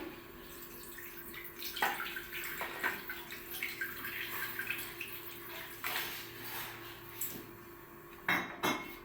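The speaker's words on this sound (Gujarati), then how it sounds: "હવે તેમાં આપણે પાણી ઉમેરી દઈએ" Water pours and splashes into a pan of hot ghee, with metal utensil clinks and scraping, followed by a few sharp clanks near the end.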